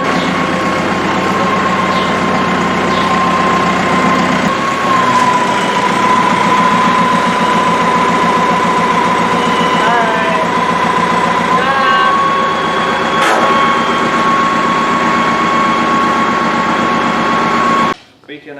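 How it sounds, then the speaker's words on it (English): Steady, continuous mechanical drone and rhythmic clatter of a hay baler running on a farm, loud and close throughout, with people talking over it. "What kind of baler is this? A hay baler."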